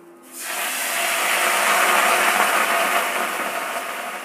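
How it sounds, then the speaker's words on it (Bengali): Water poured into a hot wok of stir-fried vegetables for Manchurian instant noodles bursts into a loud, sustained hiss of steam that swells after a brief quiet start and holds steady, close up with no voices. "তখন আমি এই কড়াইতে 4 কাপ জল ও 2 নুডল কেক যোগ করে দেব।"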